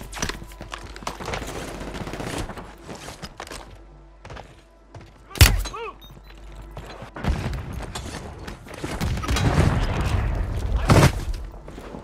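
Call of Duty Warzone 3 gunfire comes in scattered bursts and single shots with a sharp boom mid-way, then heavier rapid fire toward the end amid game ambience.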